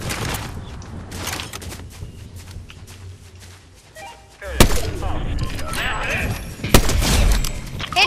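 Gunfire in the Fortnite video game, with loud bursts and heavy booms rising in the second half after a quieter stretch, and players talking over the action.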